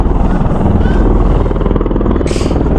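Steady low rumbling engine drone with rhythmic throbbing from helicopters at a Las Vegas landing site, one landing nearby, loud and continuous with a brief hiss near the end.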